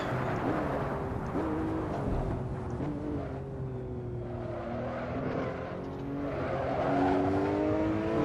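Simulated Porsche 911 Turbo S engine in Assetto Corsa pulls hard through the gears, with rising and falling engine tones sustained throughout as the car turns in and accelerates out of a chicane.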